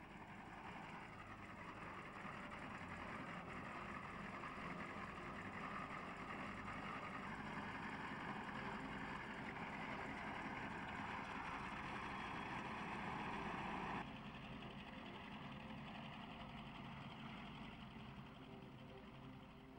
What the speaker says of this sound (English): The glorious sound of 2 Bristol Mercury engines tore through the quiet of Duxford Aerodrome.